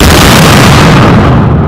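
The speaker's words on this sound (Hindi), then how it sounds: "आप देखिए इंटेंसिटी धमाके की कितनी जबरदस्त है" Detonation of a tiffin bomb by a bomb disposal squad, heard as a deafening, saturated boom that fills the clip with a rolling roar and echo and no other sound.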